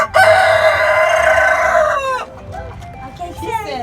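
A rooster lets out one loud, close crow lasting about two seconds, then softer clucks and other chicken sounds follow with faint background noise.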